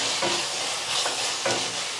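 Spices (coriander and cumin powder) stirred into frying potato bhaji in a pan: a steady soft sizzle with a few scraping spoon strokes, close and moderately loud, no voices.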